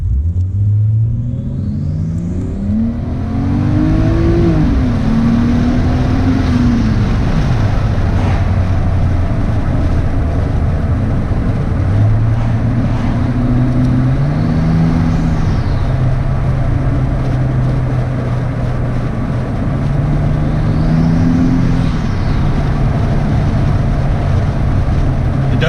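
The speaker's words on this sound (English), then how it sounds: "I really do enjoy the turbo noises" Car fitted with a Chinese turbo test pipe, its engine rumbling loudly as boost builds and falls in several waves, with rising turbo whooshes and whistles over steady wind and road noise.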